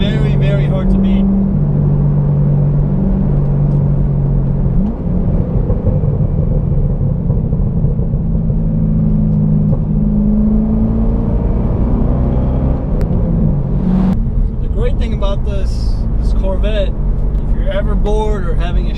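A C6 Chevrolet Corvette engine rumbles deep and loud as it accelerates, its pitch rising and falling through the gears. A sharp whoosh comes near the end.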